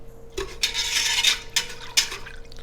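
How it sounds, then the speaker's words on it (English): A metal whisk scrapes and clatters around a pan of salt on the stove in a few quick, bright strokes with short pauses, close and fairly loud over a faint steady hum. "Don't like the way that whisk is doing on that pan"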